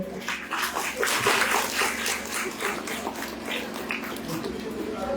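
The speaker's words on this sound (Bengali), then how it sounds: "এবার আপনারা করতালি দিয়ে আমাদের ছাত্রছাত্রীকে উৎসাহিত করুন" Applause from an audience at a school convocation ceremony, a steady, dense patter of many hands clapping that swells early, then continues evenly for several seconds.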